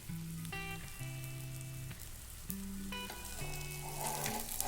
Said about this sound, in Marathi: मेथी थेपले छान खमंग असे भाजून घ्यायचे आहेत